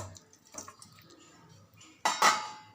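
Marinated chicken pieces shifted by hand into another cooking pot, soft wet scrapes and light clinks of the metal vessel, then a sharper, louder clatter of pots near the end.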